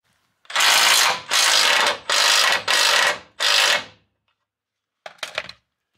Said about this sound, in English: So I'm taking out two of the cross member screws on each side and loosening the third one